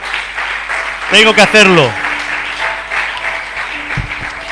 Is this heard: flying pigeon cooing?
no